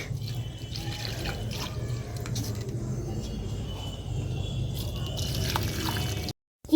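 Flower plants being watered generously, a continuous soft trickle and patter of water running for several seconds, fairly faint, then a brief cutoff near the end.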